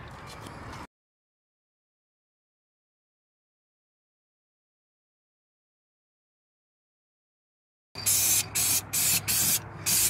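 Short bursts of an aerosol spray can laying a thick coat of paint on Montecado wheels, a brief hiss, long silence, then a series of four or five rapid, loud, close spray pulses with a low hum beneath.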